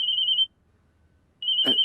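A steady electronic phone ring sounds, pauses briefly, then rings again, with a short soft noise near the end.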